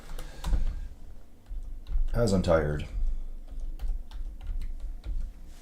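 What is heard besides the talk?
typing on a computer keyboard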